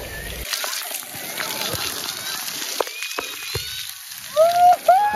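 Water pours steadily from a rain-style shower at Hardy's World water park in Ludhiana, a constant close splashing with voices talking over it.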